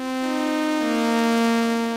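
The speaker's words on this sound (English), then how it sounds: "Sawtooth sounds like this." A Yamaha CS70M synthesizer's sawtooth oscillator sounds one bright, buzzy sustained note that dips slightly in pitch partway through, steady and isolated for about two seconds.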